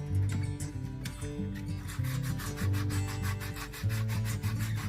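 Sanding painted garage-sale furniture to distress the finish, a steady close scraping rasp that pulses in repeated strokes under a continuous low hum, with no talking.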